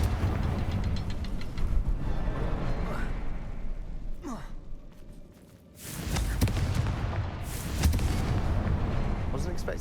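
Confringo spell blast in Hogwarts Legacy: a loud, rumbling fiery explosion that fills the scene, dies back into a brief hush, then flares into a second heavy burst of booming roar.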